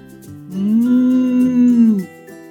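A drawn-out, low humming moo imitated by a human voice, held steady for over a second at close range.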